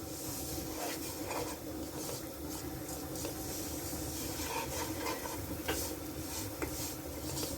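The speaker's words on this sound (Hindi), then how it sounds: "इसको चम्मच हिलाते रहें, अगर चम्मच नहीं हिलाएंगे तो फिर ये हंडिया के साथ स्टिक हो जाएगी।" Suji halwa being stirred with a spoon in a pot, a continuous soft scraping and hissing texture with faint irregular ticks, steady and moderately quiet throughout.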